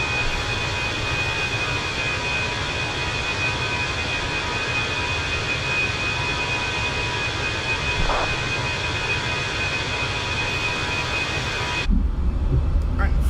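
In Microsoft Flight Simulator 2020, a Fenix A320 airliner climbs just after takeoff. A steady, loud jet-engine drone with a constant high whine runs throughout and shifts abruptly near the end.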